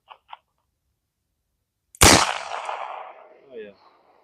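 A Ruger Super Redhawk revolver fires a single Buffalo Bore heavy 44 Magnum +P+ 340-grain hard-cast round: one very loud, sharp blast followed by a long decaying outdoor echo, with a couple of faint clicks just before.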